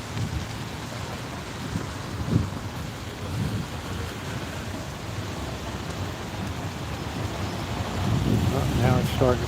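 Rain beginning to come down outdoors with thunder rumbling, a steady wash of rainfall under low rolling thunder that grows a little heavier toward the end, with brief voice-like sounds near the close.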